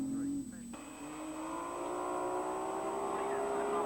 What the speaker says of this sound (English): this is Colin's Bathurst car, a car that took an absolute beating all last October